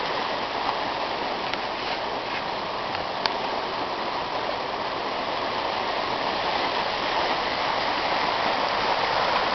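Floodwater rushes during the May 2011 flood in Prosperity, Pennsylvania, a steady broad hiss of moving water, even and continuous at moderate level, with no talk.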